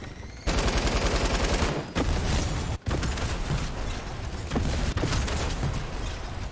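Loud, sustained bursts of video game gunfire and blasts fill an action game, nearly continuous with brief gaps, dense and close with no talk.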